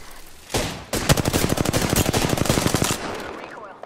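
Sustained automatic gunfire in the Apex Legends battle royale game rattles off as a close, loud burst of rapid shots for about two seconds, then trails away.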